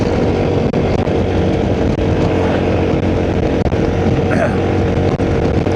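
A Suzuki Burgman 400 maxi-scooter at about 60 mph and just over 5,000 rpm on a slight uphill: a loud, steady engine drone with a continuous high-revving hum and rushing wind noise, holding constant throughout.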